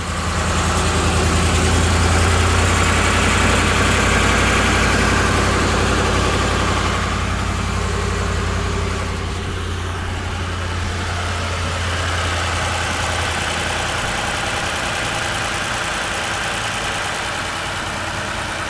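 A Ford Explorer 4.6L three-valve V8 idles smoothly and steadily after a passenger-side exhaust manifold replacement, a constant close, even engine hum with a low rumble and no voices for nearly twenty seconds.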